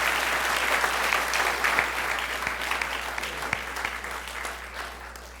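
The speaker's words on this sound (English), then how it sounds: "Can we have another round of applause for Ms. Estevez for being so brave and shari" Steady, dense applause from a high school assembly audience at Governor Livingston High School, a loud continuous wash of clapping lasting throughout with no pause.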